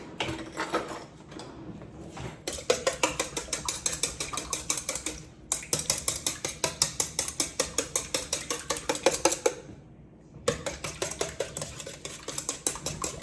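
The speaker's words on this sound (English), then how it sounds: "We're gonna do 2 eggs in here. 1, 2. Okay, let's give that a little whisk." Two eggs whisked in a bowl for a bison lasagna, a fast run of rhythmic clinking strokes with two brief pauses, close and clear with no talking.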